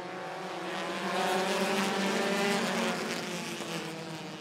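Race cars in a Bandit feature at Rockford Speedway roar together as the green flag drops, a dense, sustained engine drone that swells and holds steady without speech.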